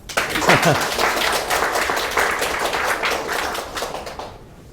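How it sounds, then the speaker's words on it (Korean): Applause from an audience at a mathematics lecture, a dense burst of many hands clapping that stays steady at moderate loudness and then fades out at the end. "박수 치면 조금 더 할게요"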